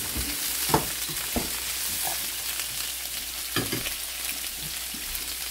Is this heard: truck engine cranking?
no